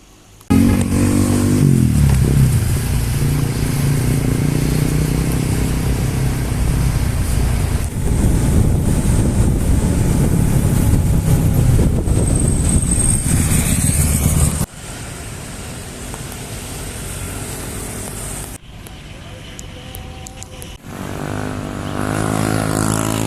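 A motorcycle engine drones continuously while riding, with heavy wind buffeting the microphone and a few abrupt shifts in the road noise.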